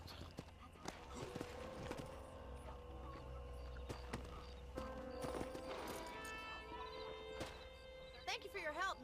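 Horse in the Red Dead Redemption video game: clip-clopping hooves and a few whinnies and snorts, heard under game characters talking, with a louder neigh near the end.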